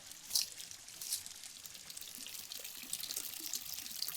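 Hot spring water trickles and drips in a Java jungle, a faint, close, bright splashing with a few sharper drops, no voices over it.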